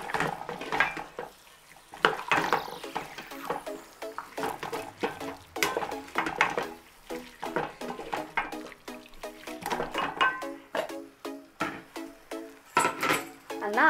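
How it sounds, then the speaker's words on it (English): Carrots stirred in a cooking pot with a spoon, giving soft irregular scrapes and clinks against the pot, close and moderately quiet, with faint cooking sounds in between. "I'm going to add in my carrots. And give it a good stir again."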